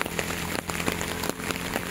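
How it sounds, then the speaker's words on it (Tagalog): Steady rain falls on a rural property near a cemented four-lane provincial highway in Toledo City, Cebu, a dense, even patter of drops hitting surfaces throughout with no break. "Gagaulan."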